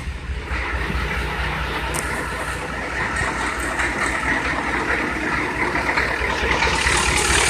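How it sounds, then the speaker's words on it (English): An IDI diesel engine fitted with billet return rails idles steadily, a close, continuous low rumble with an even clatter that stays level throughout, with no voices. "Idle's nice and smooth."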